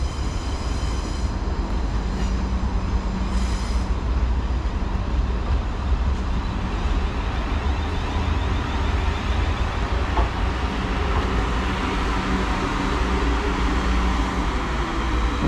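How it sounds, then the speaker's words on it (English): A South Western Railway Class 444 electric train pulls into platform 2 at Poole station, a steady loud rumble of wheels and traction with a broad rushing hiss held throughout, no voices. "1614 South Western Railway service to Weymouth from London Waterloo, pulling into platform 2 here at Poole."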